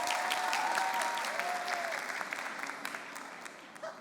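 An audience at a World Scholar's Cup senior debate showcase in The Hague claps for an affirmative speaker, with dense applause that is loud at first and then slowly thins, plus a few faint voices.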